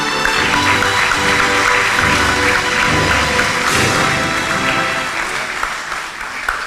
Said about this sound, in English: Let's applaud the graduates.